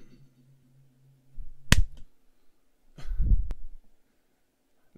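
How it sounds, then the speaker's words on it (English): Hands clap to cut off audio feedback, giving a sharp snap followed about two seconds later by a duller smack, with a low hum fading in between. "The reason I keep clapping is so it won't keep doing that feedback"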